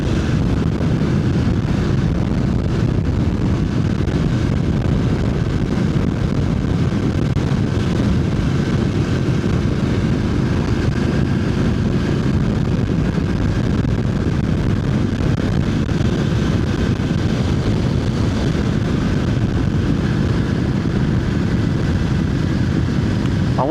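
Steady road and engine noise from a Voge 900DSX motorcycle while riding through a valley, a continuous dense rumble mixed with wind buffeting, unbroken for the whole stretch with no talking.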